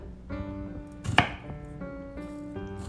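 A kitchen knife chops through a fresh garlic clove on a cutting board, giving a few quiet taps and then one sharp, louder chop close up, with no voices.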